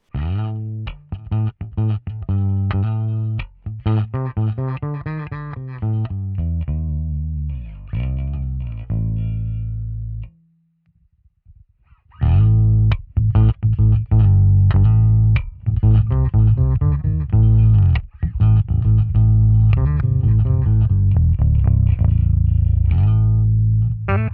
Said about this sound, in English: So the bass into the suboctave, into the amp, what sounds like this